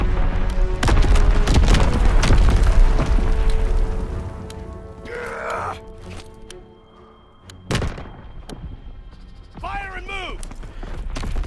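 Grease gun submachine gun fire in the Call of Duty: WWII multiplayer beta on PS4 Pro: dense, loud bursts of rapid shots and booms that thin into sparser gunfire, with a voice talking briefly.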